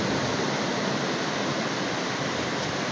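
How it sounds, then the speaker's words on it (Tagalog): Large waves break on a sandy shore with no barrier offshore, a continuous, dense roar of surf that stays loud and even throughout, with no voices. "Malalaki ang alon sa tabi"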